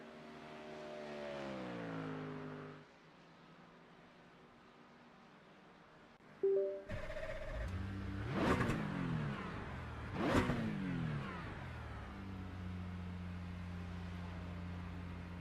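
Race car engine in the iRacing sim, a steady harmonic drone that drops away, then returns with sharp rising revs and two loud throttle blips, settling back into a lower rumble; no talking.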